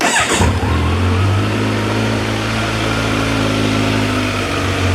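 A 2020 Kawasaki Z900 ABS motorcycle engine catches with a short cranking burst, then settles into a loud, steady fast idle with a strong low rumble that holds close by throughout.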